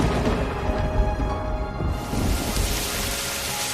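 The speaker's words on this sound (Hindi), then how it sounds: "अरे देखो, बारिश शुरू हो गई।" Cartoon-style sound effect of rain beginning to fall in a jungle scene, a steady hiss of drops that swells and thickens partway through, with no talking.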